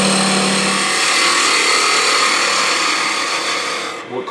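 A parting tool cuts into a wooden baby rattle spinning on a lathe, giving a steady, loud scraping rasp that runs for several seconds before easing off and stopping near the end.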